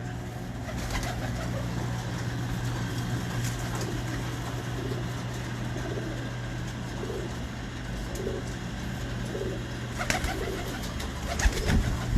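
Several pigeons in a fancier's loft coo continuously, overlapping low throaty calls over a steady background hum, with a few sharper noises near the end.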